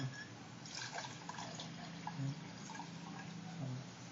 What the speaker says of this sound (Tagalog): First, we add the water.